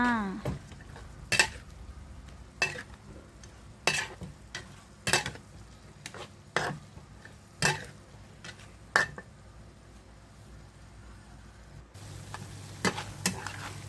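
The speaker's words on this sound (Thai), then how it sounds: "ผัดไปจนกว่าถั่วฝักยาว สุกก็เป็นอันเสร็จเรียบร้อยด้วยจ้า" Chicken in red curry paste with long beans stir-fried in a pan, the spatula scraping and clanking against the metal at an irregular pace over a soft sizzle, close by with no talking.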